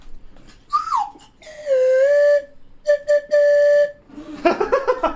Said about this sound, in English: You want me to whistle cover this?